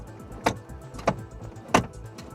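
Tilt steering column of a Suzuki Swift Sport (ZC33S, 2WD) being adjusted, giving three sharp mechanical clicks or clunks at roughly even intervals, close by and fairly loud against a quiet cabin.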